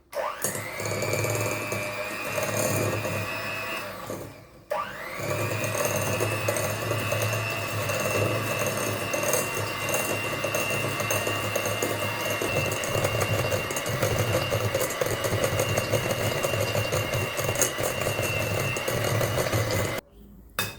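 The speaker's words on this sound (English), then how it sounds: "with my electric mixer, hand mixer, I'm going to be creaming this until it's light and very fluffy." Electric hand mixer creaming sugar for cupcake batter, a steady, close motor whir that runs nearly continuously for about twenty seconds, broken by two brief pauses, with no talking.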